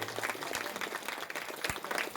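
An audience applauds at a Lions International village adoption and health check-up camp, with dense, continuous clapping heard close throughout.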